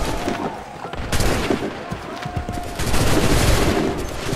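Musket volleys in Assassin's Creed III fill the battle with dense, overlapping gunfire, crackling bursts that come in waves against a noisy backdrop, with shouted orders faintly mixed in.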